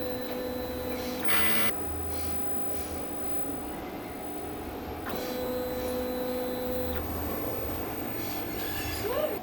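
DTF printer running a print-head clean cycle, with a continuous mechanical whir and motor drone, two brief louder bursts where the carriage moves, and faint whining tones, all fairly quiet with no talking.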